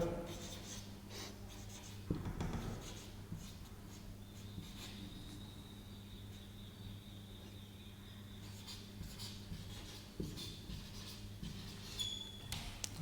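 Chalk or marker writes an example on a board during a mathematics lesson on sets. Faint scratching strokes sit at the edge of hearing under a quiet room hum, and there is no talking.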